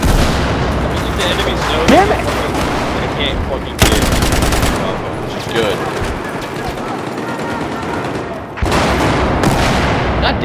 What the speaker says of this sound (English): somebody just fucking RPG'd us